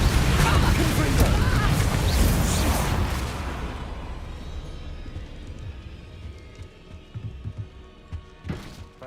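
A loud burst of Confringo blasting curse explosions in Hogwarts Legacy booms at the start, then decays into a lower rumbling tail, with a few smaller pops near the end.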